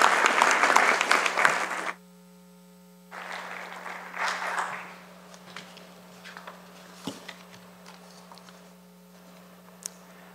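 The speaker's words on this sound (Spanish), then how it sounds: "Le damos un fuerte aplauso al doctor Omar García Luna." Crowd applause for a speaker at an academic conference on global administrative law, dense and loud for about two seconds, then cut off abruptly, returning briefly as a softer burst before scattered quiet ticks and room noise.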